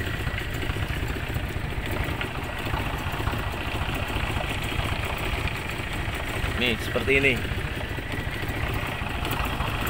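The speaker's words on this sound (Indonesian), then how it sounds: "Cuman ini RPM-nya terlalu rendah, nanti bisa bisa digedein sedikit stasionernya" A 1974 Toyota Corolla KE20 engine idling at low RPM, a steady low rumbling throb heard close up, with someone talking over it and a brief tonal squeak partway through.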